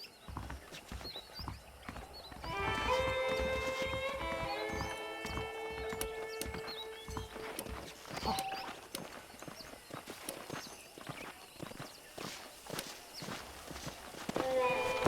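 Horse hooves clip-clop at a steady walking pace in the video game Red Dead Redemption, quiet and mid-distance, beneath a bright musical melody.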